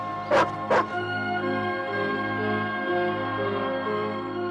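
A dog in a film gives two sharp barks in quick succession near the start, over a steady sustained tonal backdrop.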